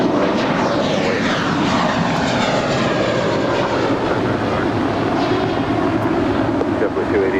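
A United airliner takes off from runway 25 right at LAX, its jet engines a loud, steady roar throughout with a slowly shifting pitch and no break.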